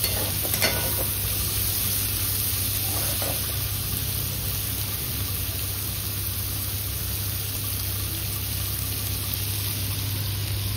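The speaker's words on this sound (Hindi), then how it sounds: "हम प्याज को अच्छे से गुलाबी होने तक भून लेंगे" Onions fry in a pan until pink, giving a steady, soft, even sizzle with a constant low hum underneath and no talking.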